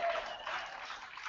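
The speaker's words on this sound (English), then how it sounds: "yes, you can applaud there" A conference keynote audience applauds in a steady wash of clapping. It is moderately loud and fairly close, with no speech over it for the whole stretch.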